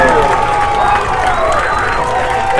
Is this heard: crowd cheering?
yes